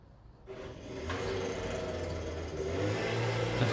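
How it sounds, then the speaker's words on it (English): A weed blower droning steadily outdoors, a continuous motor hum that swells in after the first half second and holds at moderate loudness, with no voices. "Of course the weed blower is on."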